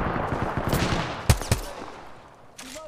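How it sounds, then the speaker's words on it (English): Shotgun fire in the game Apex Legends: a burst of rapid gunfire followed by two loud, sharp blasts and a fading tail, close and punchy, with no talk. "I have a shotgun."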